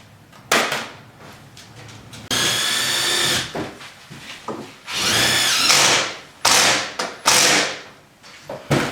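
A power drill whirs in several short bursts, each about a second long, separated by brief pauses and small clunks of handling, during work on a Ford motor home.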